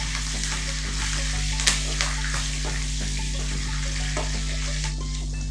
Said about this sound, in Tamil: பச்சை மிளகா நல்லா வறுபடட்டும், கலர் மாறும்